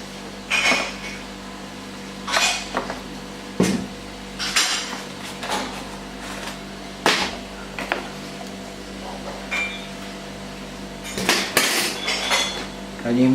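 Banana cake batter with baking powder and soda is mixed in a bowl by hand, the utensil knocking and clinking against the bowl in irregular bursts, close and clear with no talking.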